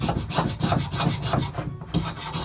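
A rasp scrapes varnish and paint off a wooden axe handle in quick, rhythmic strokes, roughly four per second, close and steady with a brief pause near the end.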